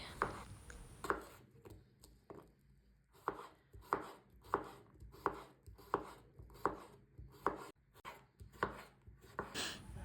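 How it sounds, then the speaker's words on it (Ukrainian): Steady, rhythmic knife chops through fresh cucumber on a cutting board, about one cut per half second, close and crisp, with faint talking in the background. "я беру свіжий огірок 300 г та нарізаю його середніми шматками"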